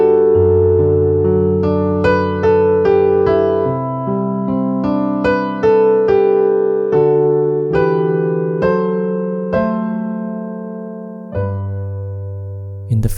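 A piano plays the instrumental intro section of a classic 70s song, a steady sequence of struck chords over moving bass notes, clear and close with sustained ringing and no voices.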